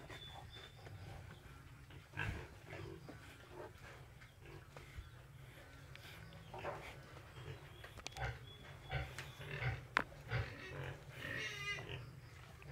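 Pigs eat feed made from taho soybean pulp, with faint wet chomping, snuffling and occasional soft grunts at close range over a low, steady background hum.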